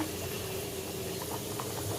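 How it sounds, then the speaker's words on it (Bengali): Steady, quiet bubbling of dal simmering in a pot, with a continuous low rumble and soft popping throughout. "এখানে ডাল সেদ্ধ হচ্ছে"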